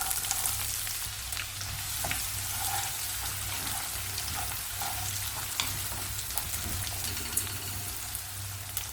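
Onions and green chillies frying in hot sesame oil with mustard seeds, urad dal and chana dal, a dense steady sizzle and crackle with sharp pops, close and continuous with no voices.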